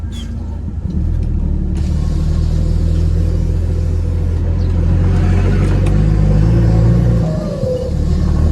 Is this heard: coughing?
no